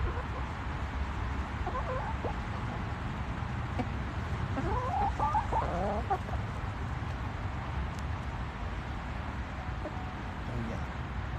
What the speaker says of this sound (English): Okay, chickens, here. Come to my smorgasbord.